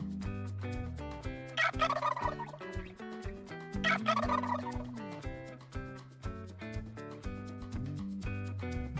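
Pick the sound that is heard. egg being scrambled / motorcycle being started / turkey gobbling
turkey gobbling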